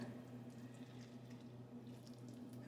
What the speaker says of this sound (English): I'm going to add just a little tiny bit more water